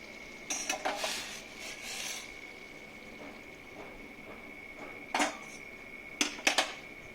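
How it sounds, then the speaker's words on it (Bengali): A spice mixture is stirred into hot water in a shallow frying pan for a bhetki fish dish, giving a few sparse scraping and clinking strokes against a steady faint background hum. "মশলাটাকে আস্তে আস্তে এই গরম জলটার সঙ্গে মিশিয়ে নিচ্ছি"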